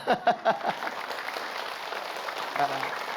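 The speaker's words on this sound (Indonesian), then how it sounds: "Nah, tepuk tangan dulu." A studio audience at a Siraman Qolbu religious talk breaks into applause, a few sharp clap bursts at first, then a steady spread of many hands clapping under a speaking voice.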